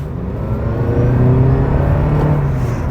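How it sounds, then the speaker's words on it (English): A Toyota Prius Prime XSE hybrid's gasoline engine kicks in under full-throttle acceleration, a steady rising rumble and whir heard from inside the vehicle. "you can hear that gasoline engine kick in"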